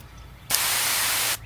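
Water sprays hard from an all-aluminum Gardenite hose nozzle sprayer in one steady, loud burst lasting under a second, with a short quiet before and after.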